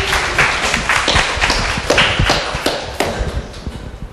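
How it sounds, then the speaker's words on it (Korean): A radio-show studio audience applauds for a guest: dense, steady clapping from many hands, close and sustained throughout, with no voices over it. "박수 한번 크게 주세요."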